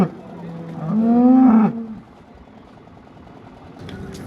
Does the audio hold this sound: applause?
no